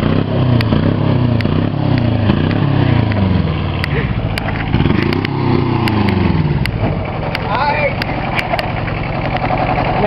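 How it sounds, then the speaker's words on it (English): A Kubota diesel engine with its throttle turned up runs loud and close, a steady mechanical drone that swells and dips in pitch as it revs, with a voice speaking briefly over it. "that's what it looks like when you turn up the throttle in the screw"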